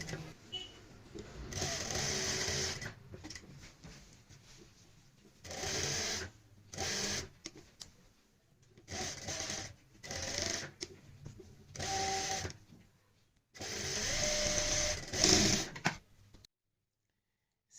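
A sewing machine stitches a kurti neckline in several short, fairly quiet runs with pauses between them, close by, with brief talk in the gaps.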